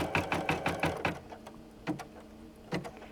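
An embroidery machine stitches a seam on crazy-quilt fabric, with a rapid run of mechanical needle strokes that pause and then give a couple of separate short bursts, close and clear with no talking.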